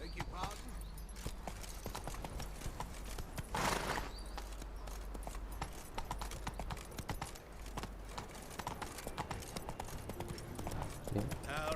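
A horse gallops in The Witcher 3 with rhythmic clip-clop hoofbeats running through the whole stretch, while someone talks over the game sounds.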